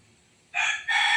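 A rooster crows loudly in two bright, sustained bursts, the second following right after the first, with no other sounds around it.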